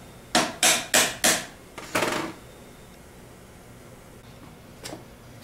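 A bearing is tapped into the back plate of a Ford 3G alternator. Four sharp, evenly spaced hammer taps ring out close and loud, followed by a fifth, longer knock and one faint tap a few seconds later. No one speaks.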